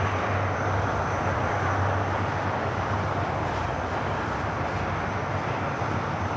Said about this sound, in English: We do have a United flight heading to Cleveland, Ohio, now rolling down to 25 at right